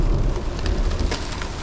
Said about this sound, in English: Some nice Thunder out there.